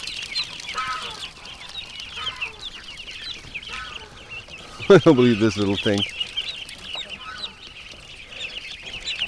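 Ducks in a backyard give a sudden loud burst of rapid quacking midway, after softer scattered calls, while a person talks nearby.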